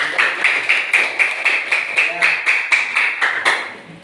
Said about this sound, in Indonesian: aplaus untuk Akmal